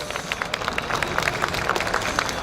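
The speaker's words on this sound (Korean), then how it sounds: "여러분 다시 한번 뜨거운 박수 부탁드리겠습니다." A crowd claps continuously outdoors at a memorial gathering, a dense patter of many hands at steady, moderate loudness with no talking.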